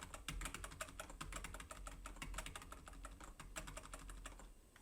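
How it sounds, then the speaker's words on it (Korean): Tab and Alt keys are pressed on a computer keyboard, giving a quick run of crisp, close key clicks in an uneven rhythm with no other sound. "다시 탭키를 눌러서 Alt 키를 누른 채"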